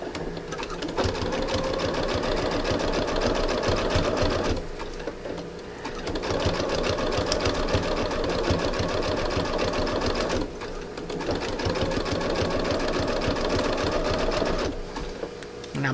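A sewing machine stitches through fabric-covered rope for a coiled urn and lidded bowl, running in three long steady bursts with brief pauses between, close and loud.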